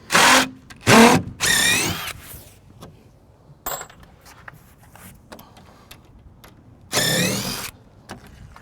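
A power drill drives screws through plywood hurricane guards over doors and windows: loud motor bursts, some with rising whine, at the start and again near the end, with quiet handling sounds between.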